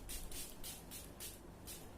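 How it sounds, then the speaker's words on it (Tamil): Face toner misted from a pump spray bottle onto the skin, five or six short, close hissing bursts in a quick even rhythm, alone in a quiet room. "இப்படி ஸ்ப்ரே பண்ணி விட்டுருங்க"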